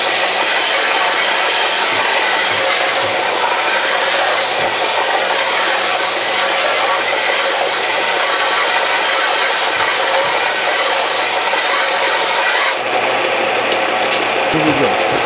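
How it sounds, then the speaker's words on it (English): A belt sander runs continuously with a loud, steady broadband whine while dressing the side of a metal bullet sizer part for a .38 Special, the grinding tone shifting slightly near the end. "a little dressing up on the belt sander now and make it smooth on the side"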